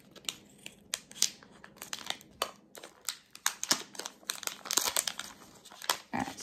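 A mail package holding a lip gloss order is cut open, giving loud, irregular bursts of crinkling and tearing plastic packaging close up, with no talking.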